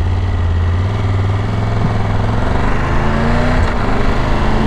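A Triumph Tiger 1200 GT Pro motorcycle idles close by, its big engine giving a deep, steady throbbing rumble that stays loud and even throughout.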